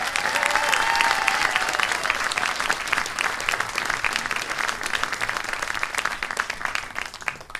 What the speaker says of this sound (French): Donc je vous demande d'applaudir.